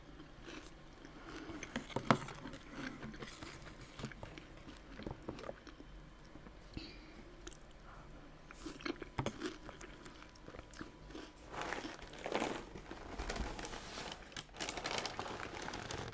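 Crunchy cereal being eaten close to the microphone, with quiet, irregular crunches and chewing spread across a soft, hushed background, no one talking.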